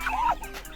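A rooster or similar fowl gives a short, close gobbling cluck, a quick wavering call lasting under a second over faint background noise.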